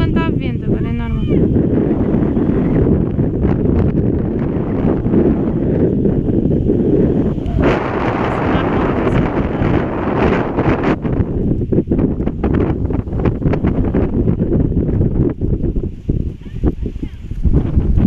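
Strong wind blows steadily across a fishing boat on the Tagus river, a loud continuous roar buffeting the microphone, with faint rustling throughout.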